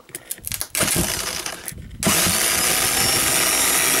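A Subaru engine with a battery short fault, jumped at the starter, gives a few uneven cranking bursts, then catches and runs with a loud, steady, rough roar.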